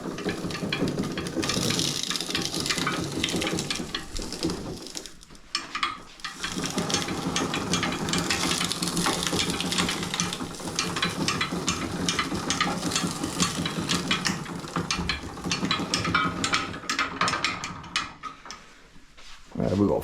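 A home sugar cane press crushes a 16 to 18 inch piece of cane, a loud continuous mechanical grinding and clanking with gear-like ratcheting, briefly pausing near the middle before resuming.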